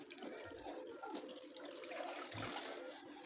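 Strained zobo (hibiscus) drink running through cheesecloth, a steady close watery trickle and splash that carries on throughout without any talking.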